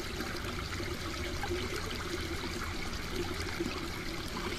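River water rushing past close by at Dixon Falls in Fundy National Park, a dense, steady wash that continues unbroken, loud and with no talk.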